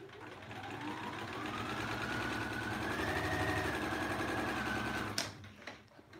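A Bernina sewing machine stitching, a smooth, fast, even whir with a slightly rising motor pitch, close and steady for about five seconds before stopping with a click and a couple of small knocks.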